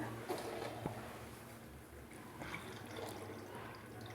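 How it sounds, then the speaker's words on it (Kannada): Faint running water from a submersible pump trickling and splashing steadily through a Kangen SD501 water device during deep cleaning, with a few small drips and knocks, distant and low in level. "ಈಗ ಇಲ್ಲಿ ನೀರು ಹೋಗಿ ಇಲ್ಲೇ ಬೀಳುತ್ತೆ ಡೀಪ್ ಕ್ಲೀನಿಂಗ್ ಶುರುವಾಗಿದೆ"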